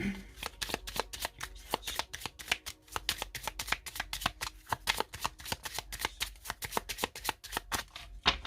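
Voyance Express oracle cards are shuffled by hand in a rapid, steady run of crisp riffling snaps, close and clear, continuing without pause.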